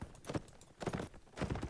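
Horse hooves clip-clopping in a multiplayer match of a Viking-era battle game, as a rider on a saddled horse moves at pace; three quick bursts of hoofbeats, fairly faint, with no talk.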